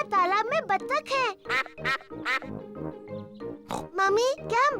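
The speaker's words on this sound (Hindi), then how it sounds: "देखो, वहाँ तालाब में बत्तख है।" A cartoon duck quacks on a pond in a Peppa Pig episode, short nasal quacks repeated in bursts amid lively character voices and chatter, close and clear.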